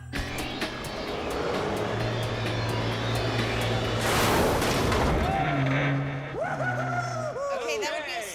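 A falling elevator structure slams onto a Green Hornet Black Beauty car, a loud rumbling crash bursting out mid-clip over a steady mechanical drone, followed by wavering whines and clatter as it settles.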